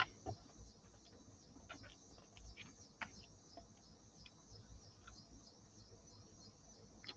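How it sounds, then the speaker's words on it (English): Insects trill steadily outside at night, a faint continuous high-pitched buzzing chorus with scattered soft clicks and ticks, distant and without voices. "I hear cicadas outside."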